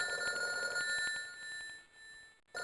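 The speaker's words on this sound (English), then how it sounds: "The inorganic sound of the bell echoes in the room." An old mechanical telephone bell rings in a game, a sustained, bright metallic trill with rapid repeated strikes that fills the room, briefly cutting out before resuming.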